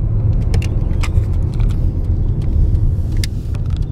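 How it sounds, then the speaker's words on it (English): A car driving in along a creek wetland, its steady low engine rumble and road noise close and continuous, with faint light rattles on top. "I'm gonna drive in here somewhere."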